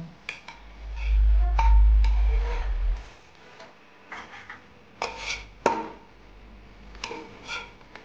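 Veg pulao with potato and peas being stirred in a pot, soft scraping and ticking spoon strokes against the metal coming in scattered bursts, with a low rumble early on.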